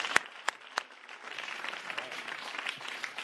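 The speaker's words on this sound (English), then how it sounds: "Let's give him a big round of applause." An audience applauds a speaker taking the stage at the World Bank Youth Summit 2017 pitch event: a few sharp separate claps, then steady, moderately distant applause from the crowd.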